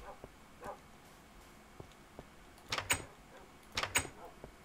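Dogs barking in a video game, kept in a dog house behind the player: faint background hum, then two loud clustered bursts of barking near the end.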